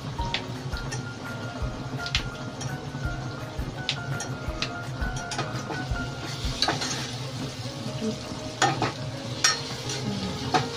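Onions and green chillies fry in a pan for a masala egg curry, with a soft sizzle under repeated spoon stirs and scraping clinks against the metal.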